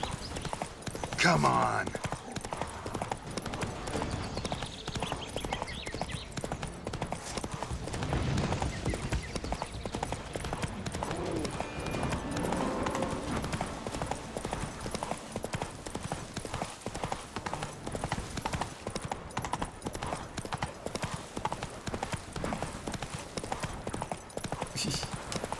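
Horse hooves clip-clop at a steady trotting rhythm in The Witcher 3, continuous and prominent throughout, with someone talking over them now and then.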